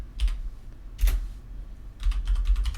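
Bursts of keystrokes on a computer keyboard as a cryptsetup LUKS format command is entered for an encrypted LVM RAID 1 volume, in three quick clusters with brief pauses between, close and clear.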